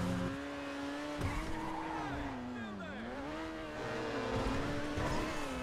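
Overflod Entity MT supercar in GTA 5 racing hard, its engine note sweeping up and down through gear changes with tire squeal, loud and close over a continuous roar.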